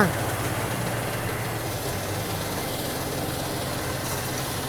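The engine of a 2E multipurpose branch shredder, model 2EMH-T1, drones loudly and steadily at close range after crushing glass bottles, with no change in pitch or rhythm.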